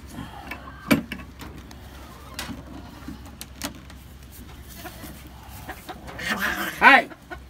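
Chickens cluck and squawk around a workbench inside a coop, near and fairly loud, with scattered rustling and knocks and one sharp burst of squawking toward the end.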